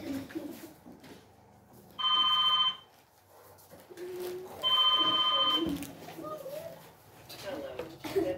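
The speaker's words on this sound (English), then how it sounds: "Shall we listen to this ringing?" Two bursts of electronic telephone ringing, each lasting under a second and clearly audible over a quiet background with faint voices.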